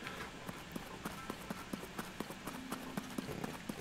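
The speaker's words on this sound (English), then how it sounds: "I think they got a skeleton horse down here." Faint, steady hoofbeats clop along in an even rhythm, like a skeleton horse trotting at a distance in The Legend of Zelda: Tears of the Kingdom.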